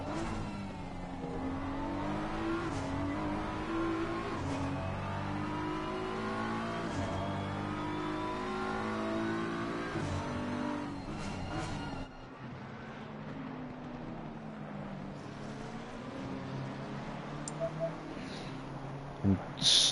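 GT3 race cars lapping Oulton Park in Assetto Corsa Competizione, engines revving and shifting through gears in a continuous mid-pitched drone that drops off partway, with race commentary talking over it.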